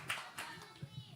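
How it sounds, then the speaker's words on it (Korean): A small child clapping hands during a Friday worship gathering at a church, a few light, sparse claps, faint and under distant talk. "우리 아이가 박수 치고."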